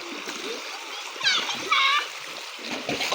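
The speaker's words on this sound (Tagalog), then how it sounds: "Mugno kay tubig sa hose," Water from a garden hose splashes and spatters close by in uneven bursts, while children's voices and other people talk and call out over it.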